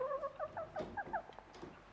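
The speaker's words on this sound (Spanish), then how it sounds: "Y ten cuidado, no se vaya a escapar una gallina." A hen clucks in short, bright bursts near the door of a house, several quick calls in an uneven rhythm, fairly close and moderately faint, with no talk over it.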